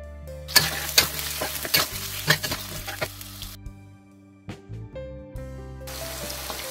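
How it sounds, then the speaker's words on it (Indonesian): Shallots frying in hot oil for a red spice base, a steady sizzle with clattering stirs and scrapes of a utensil, heard up close alongside background music. "kita panaskan minyak, kita mau menggoreng bawang merahnya dulu ya"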